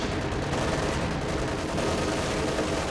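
Dense, continuous gunfire from the Company of Heroes 2 battle, with rattling machine-gun bursts and overlapping shots under a steady roar of combat, loud and unbroken throughout.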